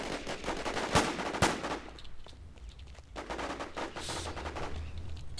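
Rapid automatic gunfire and sharp single shots in the shooter War Inc Battlezone, loud and close, coming in bursts with short pauses between them.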